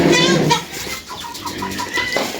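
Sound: chicks on a farm

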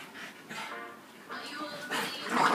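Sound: Staffordshire Bull Terrier dogs whimpering and barking

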